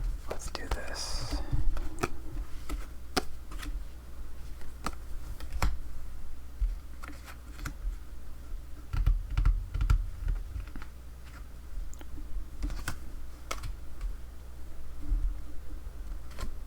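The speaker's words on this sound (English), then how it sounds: "I'm gonna have to learn how to move my cards cleanly while reaching around the microphone like this" Playing cards slide and tap on a surface during a game of Algerian Patience solitaire, close and soft, with scattered light clicks and brushing sounds under occasional whispered speech.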